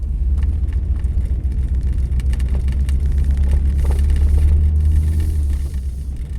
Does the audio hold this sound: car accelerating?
yes